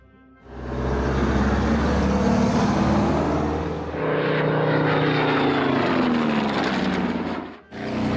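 Propeller aircraft in the World War II strategy game Order of Battle WW2 drone loudly overhead, a sustained engine roar with a dip in pitch and a brief break near the end.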